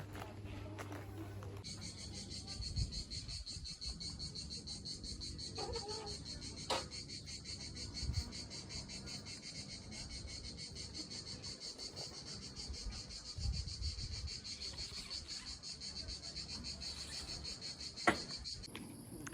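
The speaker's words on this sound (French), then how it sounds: "je vous fais profiter d'un petit coucher de soleil à Dôme, au bruit des cigales" Cicadas at sunset in Domme, Dordogne make a steady, continuous high-pitched drone that carries on unbroken, fairly soft and distant, with faint movement and occasional knocks underneath.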